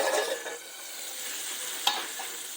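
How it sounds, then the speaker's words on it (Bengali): Continuous soft sizzling of pointed gourd frying in hot oil, with a single brief scrape of a utensil partway through. "পটল ভাজাটা হচ্ছে।"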